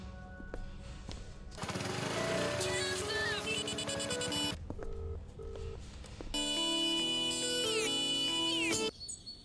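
A phone rings on an outgoing call in a Hindi-dubbed South Indian action film: loud, repeating electronic ringing tones layered with a steady musical drone, with no one speaking.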